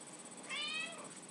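A single drawn-out cat meow, fairly quiet and close, rising and falling over about half a second against a faint background hiss.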